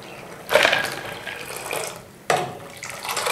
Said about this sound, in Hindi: जब उबाल आ जाए तो उसके बाद फिर ठंडे पानी का 1 डोंगा और डाल दें।